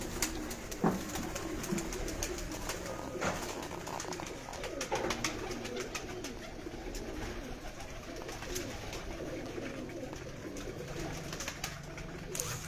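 Pigeons coo steadily throughout, a soft layered murmur of several birds close by, with occasional wing flaps and light rustling.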